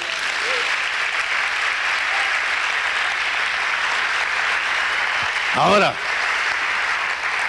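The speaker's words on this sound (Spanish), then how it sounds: "Le damos un aplauso" Steady applause from a church congregation during a sermon, a dense even wash of clapping throughout, with a brief spoken interjection near the end.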